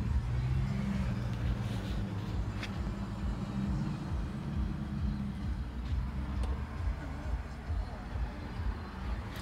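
A 2009 Nissan car's engine idles steadily close by, a continuous low hum that holds level throughout, with no talking over it.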